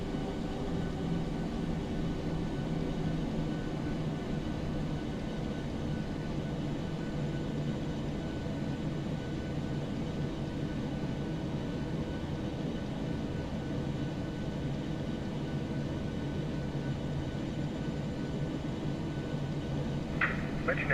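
Boeing 737-800 jet engines spooling up on the takeoff roll in a flight simulator, a steady loud rumbling roar with constant broadband noise and no breaks throughout.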